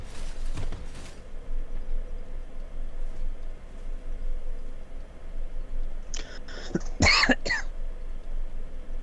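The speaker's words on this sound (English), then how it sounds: "at times my coughing and stuff sounds like I'm dying" Several coughs and throat clears from a nearby person, a rough cluster at the start and a louder burst of harsh coughing a few seconds later, over a steady low hum.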